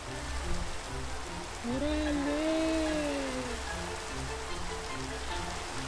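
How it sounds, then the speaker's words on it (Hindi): Steady rain falling in a Minecraft world, a constant hiss that runs the whole way through, with someone talking briefly over it in Hindi. "हाँ बारिश हो रही है"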